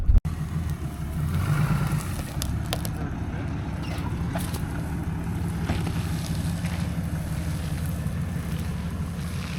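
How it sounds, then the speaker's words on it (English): A Cummins diesel truck drags the front end of a 1964 Ford Galaxie 500 around on dirt. A steady engine rumble runs the whole time under heavy wind buffeting, after one sharp knock at the start. "let's use some more of that Cummins power and spin the front end around."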